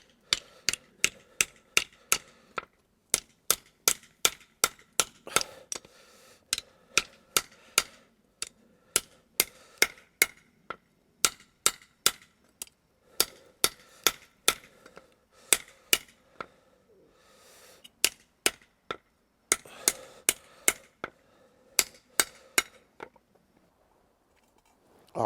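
A hammer straightening metal at a forge, sharp ringing metallic strikes in quick bursts and steady runs with short pauses between groups, close and clear.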